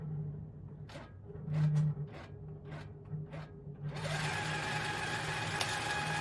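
A Handi Quilter longarm quilting machine starts up and runs steadily, its hum and rapid stitching close and clear after a few soft handling taps.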